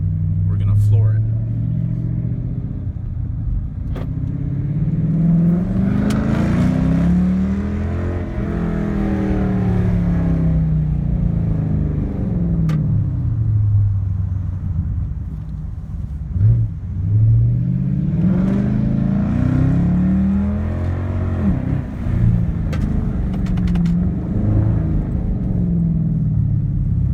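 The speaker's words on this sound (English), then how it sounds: "First gear, we're going to floor it." A 2013 Dodge Charger R/T with about 100,000 miles, accelerating at full throttle in first gear in manual mode, a loud steady engine drone rising in pitch across two pulls, heard from inside the car with a person talking over it.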